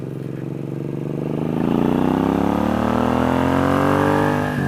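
Engine of a new bobber motorcycle on a shakedown ride, revving up with a rising, rough pulsing drone that climbs steadily in pitch, loud and close, then eases off slightly at the end.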